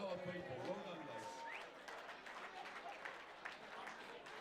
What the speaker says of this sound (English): I think we should have a round of applause to the bar staff